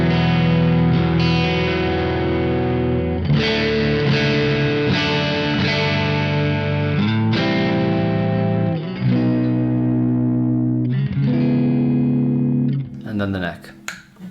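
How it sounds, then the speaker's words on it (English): A distorted Squier Paranormal Baritone Cabronita Telecaster on its middle pickup plays a series of low, sustained chords and notes with heavy effects and reverb, loud and close, fading at the end. "Let's go for a middle pickup sound."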